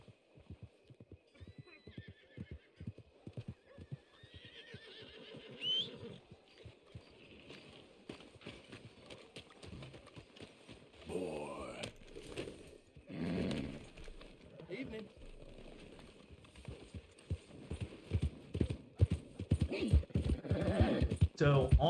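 Horse hooves clip-clop steadily while a horse neighs now and then in the video game Red Dead Redemption, with game sounds and a voice talking over it.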